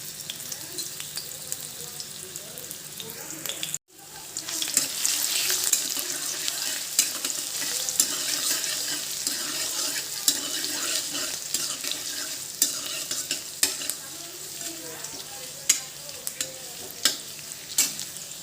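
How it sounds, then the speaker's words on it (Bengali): Crushed garlic and chopped onion sizzle and fry in hot mustard oil for a spiced vegetable curry, a steady close crackle broken by a brief silence early on, with occasional stirring clicks and no voices. "এখন এর মধ্যে রসুন থেতো করে নিয়েছি আর পেঁয়াজ কুচি দিয়ে দেব"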